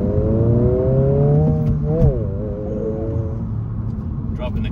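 A 2024 Honda Civic Si with a manual gearbox accelerates hard, its engine note climbing through the revs, dipping at a gear change, then pulling up again. The sound is close and steady, with a speaker occasionally talking over it.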